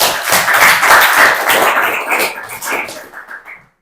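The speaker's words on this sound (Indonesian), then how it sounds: "Berikan tepuk tangan dulu untuk kita semua ya." Classroom of students clapping together for about three and a half seconds, a dense burst of claps that thins out into a few scattered last claps before stopping.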